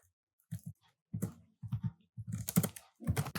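Short bursts of close computer keyboard typing while entering Java code, the keystrokes arriving in quick clusters separated by brief pauses.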